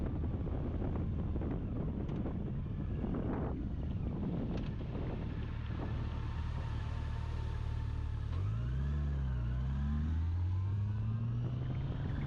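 Riding a Can-Am Spyder three-wheeled trike: steady roaring wind buffeting the microphone over a low engine drone, with a rising and falling engine tone near the end.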